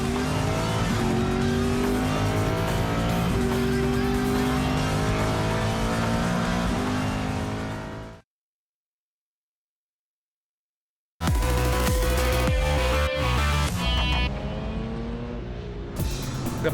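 Race cars at Sydney Motorsport Park during round 1 of the Australian Motor Racing Series roar loudly with sustained engine noise and tire squeal, cut by about three seconds of silence before the racing engines return.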